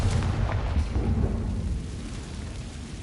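A Confringo fire-blast spell in Hogwarts Legacy booms as a deep rumbling explosion, its heavy low roar sustained for about three seconds and slowly thinning out.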